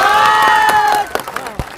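A crowd at a Yadav Mahasabha political rally lets out a loud, sustained cheer that quickly breaks into scattered, irregular clapping.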